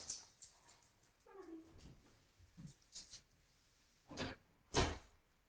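A puppy indoors lets out a few faint, brief whimpers among soft clatters and scuffing, with louder knocks toward the end.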